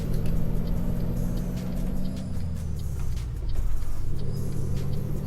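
Heavy truck engine in American Truck Simulator reversing at an intersection, a steady low diesel rumble that dips briefly and then swells again, loud and close with no talking.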